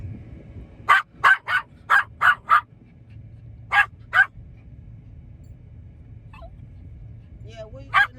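A pet dog barks inside a van, six quick sharp barks in a rapid run, then two more after a pause and a few fainter yelps, all close and loud over a low hum.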